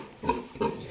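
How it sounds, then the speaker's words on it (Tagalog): Newborn piglets with their sow on a backyard pig farm, two short squeals or grunts in quick succession, close by and fairly quiet. "7 healthy piglets."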